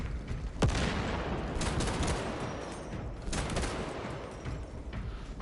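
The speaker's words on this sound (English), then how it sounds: "Deploying fragmentation grenade." A fragmentation grenade goes off in a video game, a sharp blast near the start followed by a second burst later, set within continuous loud gunfire and rumbling combat noise.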